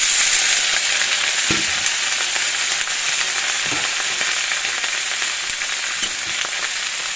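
Potatoes sizzle and fry steadily in a pan for a simple home-cooked potato curry, a continuous loud crackling hiss with faint stirring scrapes, close up and without talk.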